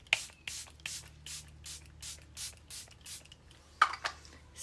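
Charlotte Tilbury Airbrush Flawless Setting Spray misted close up in a quick series of about a dozen short, evenly spaced hissing pumps, soft and near.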